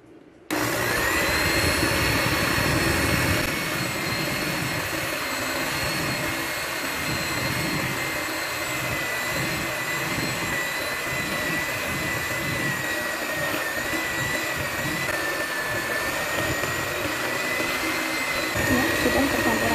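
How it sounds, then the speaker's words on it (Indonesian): An electric mixer beats cake batter with sifted flour and coffee, giving a steady, loud motor whine that starts abruptly and holds an even drone throughout. "ini di mixer lagi sampai tercampur rata."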